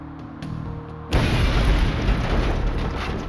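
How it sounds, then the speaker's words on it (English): A ferocious bomb blast goes off after a second of quiet, a sudden loud boom that rolls on into a dense, rumbling roar. "The explosion was ferocious"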